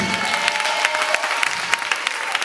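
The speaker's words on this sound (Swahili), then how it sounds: "Pigia Yesu makofi kama unanielewa." A church congregation claps in quick, dense, continuous applause at close range, loud and unbroken for the whole stretch.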